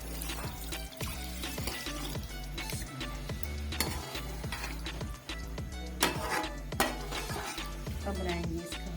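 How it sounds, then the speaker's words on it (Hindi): A fish curry is stirred slowly in a pan, a soft, steady sizzle with gentle repeated scraping strokes of a spoon at a regular pace, with occasional light clinks against the pan. "स्लोली चलाना है।"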